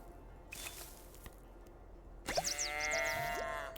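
Goats in the video game Preserve give a loud, close bleat after a quiet stretch with a few faint clicks, the call wavering for more than a second.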